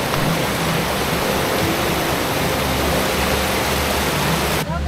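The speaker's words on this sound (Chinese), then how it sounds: "中央间隙的溪水还好像蛮大的哦。" A rushing mountain stream along a high Central Mountain Range trail in Taiwan, near a hut campsite, pours out a steady, loud, unbroken roar of water with no voices over it.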